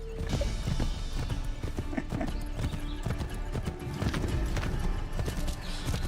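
A horse clip-clops in Assassin's Creed III, its hooves striking in a quick, steady rhythm close by, with creaking tack and faint mechanical rattles underneath. No one speaks.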